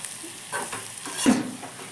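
Onions and other chutney ingredients frying in a pan over a gas flame, a soft steady sizzle with occasional stirring scrapes and a brief louder clatter near the middle.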